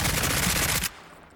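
Rifle fired on full auto in the video game SCP: 5K, a dense, loud burst of rapid shots lasting nearly a second before cutting off to quiet room tone.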